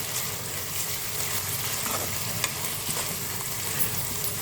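Dhaba-style dal tadka bubbles and sizzles in a pan as a continuous, fairly loud frying hiss with a few faint stirring clicks, and no talk.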